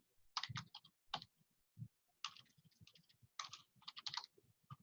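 Bursts of typing on a computer keyboard, as someone enters a publisher name while browsing an online learning app center: clusters of rapid, close key clicks separated by short pauses, with no voice.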